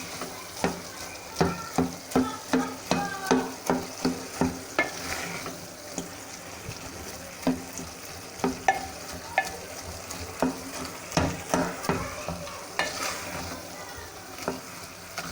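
Cauliflower with potatoes for a Delhi-style aloo gobi frying in oil in a pan, with a steady sizzle under a run of rhythmic spoon-scraping stirring strokes, close up, with a brief spoken word.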